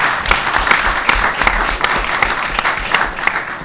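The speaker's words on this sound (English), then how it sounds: "So please, you can applaud, I think, Professor Isaac Ashkenazi." A conference audience claps in sustained applause, a dense, even wash of many hands close by with no voices over it.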